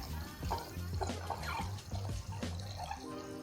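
Oil from a John Deere 4044M tractor trickles and splashes steadily through a funnel, with small drips and gurgles close by, fairly quiet and uneven.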